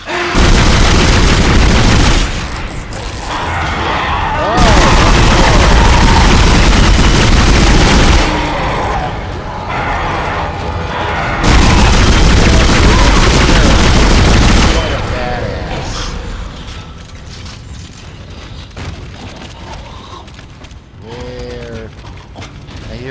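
Heavy gunfire blasts from the Dead Space video game, booming bursts in loud dense stretches separated by brief lulls, fading to scattered clanks and rumbling in-game sounds toward the end.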